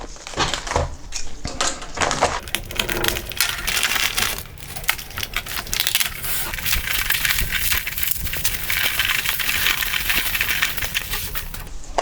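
Opening a parcel shipped from Spain that holds a reel-to-reel tape cassette: close, continuous crinkling and tearing of packaging with sharp rattles and crackles, loud and busy for about twelve seconds.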